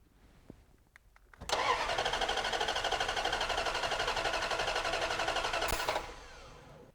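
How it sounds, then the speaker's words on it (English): A car's starter motor whirs and cranks the engine for about four and a half seconds in a steady buzzing grind, loud and close, then cuts off abruptly into quiet. "Now let's crank the starter and watch the Power Probe 3 display."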